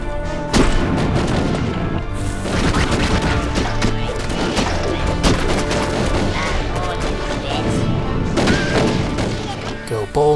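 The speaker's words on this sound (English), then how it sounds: "Here comes the missiles." Incoming missiles explode in the video game Raze's Hell, a dense barrage of booms and blasts layered over battle noise, loud and nearly continuous throughout, with a voice talking over it.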